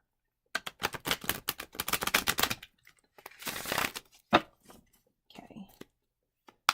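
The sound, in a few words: shuffling tarot cards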